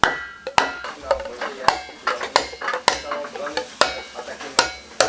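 Sharp hammer taps drive a nail into a plastic beehive feeder at an irregular pace, each a hard knock on plastic, close up with faint handling noise between blows.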